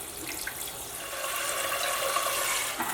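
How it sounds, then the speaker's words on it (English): Tap water runs steadily into an Instant Pot's inner pot, a continuous bright hiss and splash filling it toward the halfway mark, close and alone without talk. "now I'm just going to fill this up with water to the halfway"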